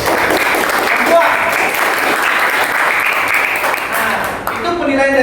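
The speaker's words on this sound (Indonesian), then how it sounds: "Kita tepuk tangan sama-sama dulu." A class of students applauds together in a classroom, loud dense clapping that carries steadily throughout, with a voice rising faintly at the very end.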